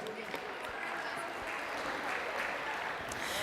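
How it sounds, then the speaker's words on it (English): Audience applause at a school sports banquet, a dense, steady clapping that fills the room from start to finish at moderate loudness. "Give them a big round of applause, please."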